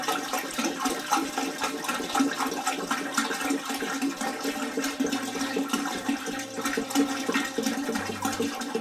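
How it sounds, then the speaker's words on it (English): Hot curing brine for a Christmas ham poured into a bucket, a steady rushing, splashing stream of liquid, close and continuous throughout, with no talking. "Well, I put the hot brine in here, the curing brine."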